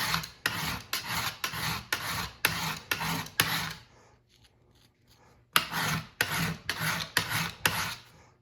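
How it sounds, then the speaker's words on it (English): A knife edge rasps in quick repeated strokes across a cheap Harbor Freight 200 grit diamond sharpening plate, loud and close, two bursts of about eight strokes each separated by a short pause. "I'm going to take a 200 grit on this cheap Harbor Freight diamond, and I'm going to just ruin that edge"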